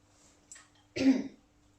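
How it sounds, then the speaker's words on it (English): A short, dry throat clearing followed by a single harsher cough, close and fairly quiet, with no talking around it. "dry throat, dry cough"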